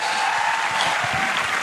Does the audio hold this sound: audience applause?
yes